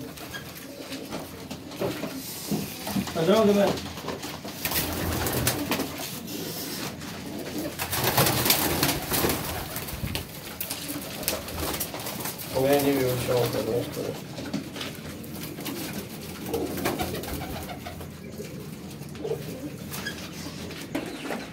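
Pigeons kept by a hobbyist coo in soft repeated bursts close by, heard at intervals under someone talking steadily throughout.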